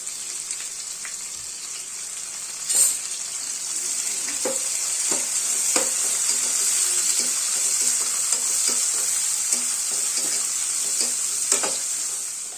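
Onions tipped into hot oil for chicken biryani, giving a steady, close frying sizzle with occasional stirring clinks and no talking.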